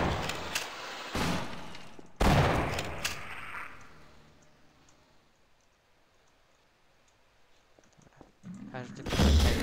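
Gunfire in Half-Life: Source: a few loud, sharp broadband bursts near the start and again at the end, with a quieter stretch of fading reverberant tail in between.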